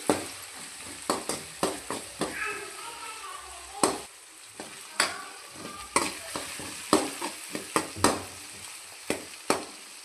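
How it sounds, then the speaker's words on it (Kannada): Chopped tomatoes fry in a pan for a potato dish, batate pulimunchi, with a steady sizzle broken by repeated loud scrapes and clacks of a spoon stirring against the pan. "ಇವಾಗ ಕೊಯ್ದಿಟ್ಕೊಂಡಿರುವಂತಹ ಟೊಮೆಟೊ ಹಾಕ್ಕೊಳ್ಳಿ ಮತ್ತು ಈ ಥರ ಫ್ರೈ ಮಾಡ್ಕೊಳ್ಳಿ"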